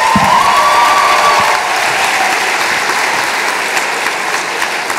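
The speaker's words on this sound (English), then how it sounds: "Please give one more round of applause for the graduates from the Carlson School of Management." Audience applause for graduates of the Carlson School of Management at an achievement celebration ceremony, a dense, steady round of clapping filling the hall throughout, easing slightly partway through.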